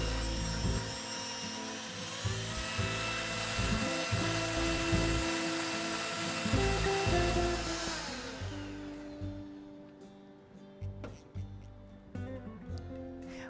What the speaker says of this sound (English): with my handheld electric mixer, you don't need a big stand mixer to make a coffee cake. I'm just going to cream together these ingredients for about a full minute